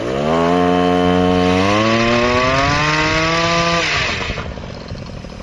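Engine of a hybrid moped revving hard during a burnout, a loud, buzzing whine that holds steady, climbs in pitch, then cuts off and drops away near the end, with no voices.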